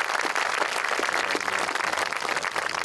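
Audience applause at a national monument dedication held on Armed Forces Day, a dense, steady wash of many hands clapping that fills the whole stretch at a loud, even level, with no talk over it.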